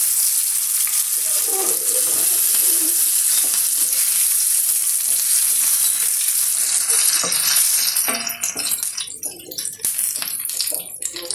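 Dried red chillies and curry leaves frying in hot oil after mustard seeds, a loud continuous sizzle and crackle close by that turns more spattery and uneven toward the end.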